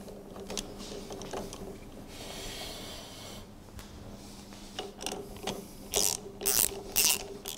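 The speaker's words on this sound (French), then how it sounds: "Vous pouvez à présent rapprocher toutes les vis et les écrous." Screws and nuts being run in on a Citroën 2CV driveshaft, with scattered metallic clicks and ratcheting taps that build to a few sharper, louder clacks near the end, close with no talk.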